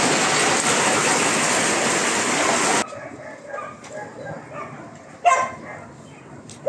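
A heavy downpour hisses loudly and steadily, then cuts away to a quieter outdoor scene where dogs bark and yip intermittently, with a single louder bark near the end.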